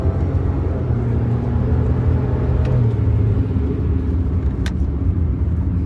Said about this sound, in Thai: นี่คือเสียงท่อ